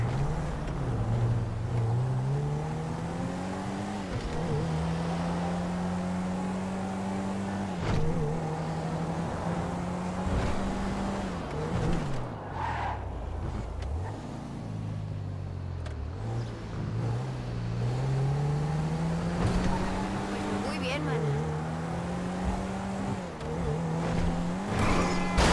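A car engine drones and revs in the video game GTA V, a steady, loud motor tone that climbs and drops as the car shifts gears and speeds up, with occasional passing whooshes and no talk.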